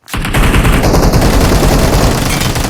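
Loud, sustained automatic gunfire from the video game PUBG Mobile rattles in a rapid continuous burst that starts abruptly and keeps going to the end without a break.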